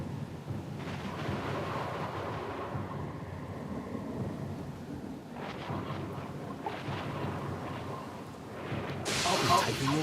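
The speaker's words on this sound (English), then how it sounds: "A little sloop, lost and alone in the storm." Storm and thunder in the video game Pillars of Eternity 2: Deadfire around a small sloop at sea, low rolling rumbles with swelling bursts and a sharper crack near the end, under a speaking voice.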